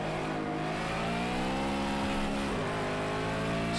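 A race car engine in Project Cars 2 revs hard and continuously, its loud harmonic whine rising and falling as gears shift during an online race, with no talking.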